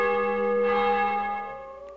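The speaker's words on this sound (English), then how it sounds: "Church bell." A church bell tolls in the video game Juggernaut, one sustained, ringing strike with layered overtones that slowly decays and stays fairly loud throughout, with no talking.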